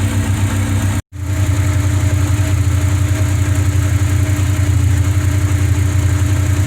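A Hyundai car engine idles steadily and close by, a smooth, even rumble with a brief cut near the start, then unchanged to the end.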